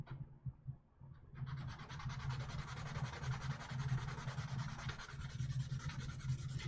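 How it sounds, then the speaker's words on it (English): A small sanding block surface-sands an MG Jesta model kit part in steady back-and-forth strokes, making a close, continuous dry rasping scrape after a brief quiet start. "I'm going to bring out the little sanding block, and we're just going to surface sand that real quick."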